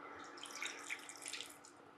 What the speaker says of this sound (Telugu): సో కొంచెం వాటర్ వేసుకుందాము